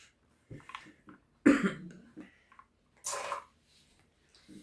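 A person coughs in short, separate bursts nearby, a few harsh coughs spaced over several seconds with quiet breathing between them, during a casual card game at home.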